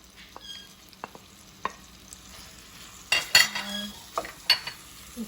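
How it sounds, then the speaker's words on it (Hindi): Garlic frying in a pan for eggplant bhurta, a quiet sizzle with scattered spoon taps and a burst of louder scraping and clattering as it is stirred, heard up close without speech. "इसी के साथ मैं अब लहसुन डाल रही हूँ।"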